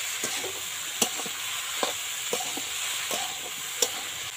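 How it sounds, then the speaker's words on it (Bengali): Taro, potato and onion stir-fried with spice powder in a pan, a steady sizzle broken by sharp scrapes of the spatula about once a second. "আর গুঁড়ো দিয়ে কষানো হচ্ছে ভুট কচু, আলু আর পেঁয়াজটা।"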